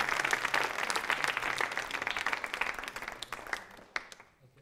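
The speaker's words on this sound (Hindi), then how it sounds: "तालियां जोरों से बजाइए" Audience applause during a hospital quiz show for a contestant, a dense burst of clapping that gradually thins out and fades to a few scattered claps.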